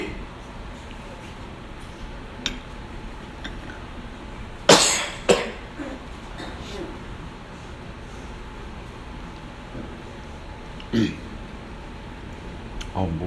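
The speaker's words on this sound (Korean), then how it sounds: "기침이 이렇게 나지?" A person coughs in an air-conditioned church room during a Wednesday worship service, with one sharp cough cluster in the middle, another soon after and a later single cough, set over a steady faint hum.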